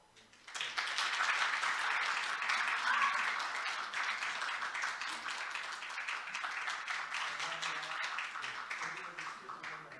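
A church congregation breaks into sustained applause during a Sunday service, many hands clapping steadily for several seconds before gradually thinning slightly.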